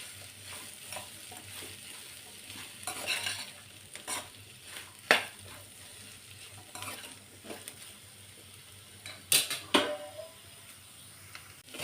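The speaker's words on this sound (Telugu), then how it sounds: "ఈ ఆనియన్స్ మొత్తం ఫ్రై అయింది కదా" Onions frying in a pan on the stove while being stirred, a low steady sizzle broken by several sharp scrapes and clinks of the spoon against the pan, fairly quiet and close with no talking.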